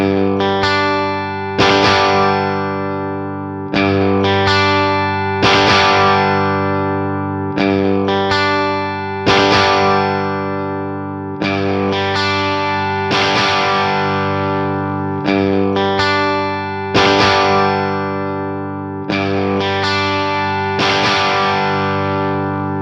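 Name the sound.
clean guitar tones, amp model versus real amp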